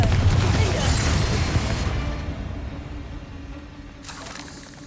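A Confringo blasting spell explodes in the Hogwarts Legacy video game, a loud rumbling burst that decays over a few seconds, with a second fainter blast near the end.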